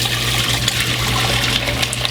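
Pot roast cooking liquid with broken-down parsley and tomatoes is poured through a strainer into a small pot, a steady close splashing trickle with a constant low hum underneath.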